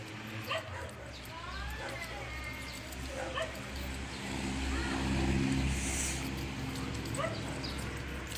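A dog barks and yips in short bursts at a distance on a cold outing in Baguio, with people talking nearby and a car passing through the low background.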